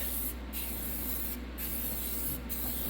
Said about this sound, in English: Hit it with the primer first.